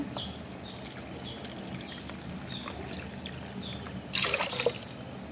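Water splashes and trickles into a cooking pot of raw rice for a few seconds, ending in a louder burst of pouring near the end.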